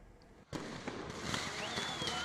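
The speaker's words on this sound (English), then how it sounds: "the Minister for Health, Dr. Jane Ruth Aceng, saw the symbolic burning of evil spectre with fireworks to mark its defeat" Fireworks at a Dussehra celebration in Uganda during the burning of an evil effigy, a sudden burst of crackling and popping that continues densely after a quiet start, with a voice faintly mixed in.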